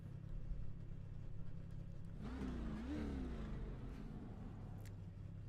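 A K&N Series NASCAR stock car engine in iRacing hums in a low, steady drone, then revs up and eases back down in one swell midway, heard faintly from a distance.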